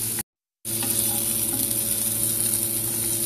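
Carrots sautéing in a pan with chili garlic oil for Indomie noodles, a loud steady sizzle broken by a brief silent gap, with light stirring scrapes and no talking.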